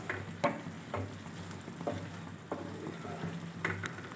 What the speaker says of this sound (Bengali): এবার কিছুক্ষণ নাড়িয়ে নিলেই তৈরি পেপার চিকেন।